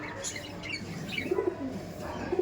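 A racing pigeon, a male bird, gives soft low coos from close by in a loft, short rounded calls standing out over faint background noise.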